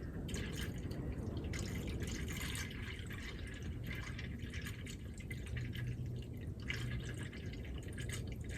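Coolant drains from a 1959 Chevy Parkwood wagon, with a soft, steady trickle and dripping of liquid heard close up and no talking.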